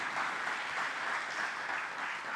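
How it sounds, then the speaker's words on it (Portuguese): A church congregation claps together in steady, dense applause that fills the room evenly from start to finish, with no voices rising above it. "Dá um aplauso ao Senhor aí."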